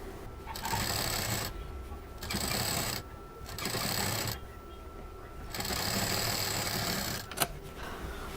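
A sewing machine stitching patchwork fabric runs in four steady bursts separated by short pauses, close and moderately loud, with a faint click near the end.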